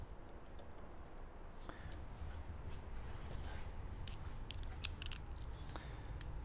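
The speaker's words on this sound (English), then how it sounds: "you can just ratchet those back up" Ratchet tightening the cap screws on a Tony Kart brake caliper gives quiet, sharp clicks in short irregular bursts over a faint low background, close by and soft overall.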